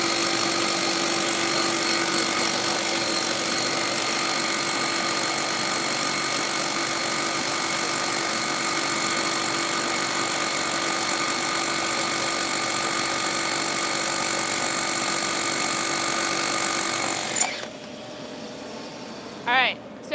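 A new Milwaukee cordless power tool drills steadily and loudly for about seventeen seconds as one continuous high-pitched whine. It then stops abruptly, leaving quieter background noise with brief voices.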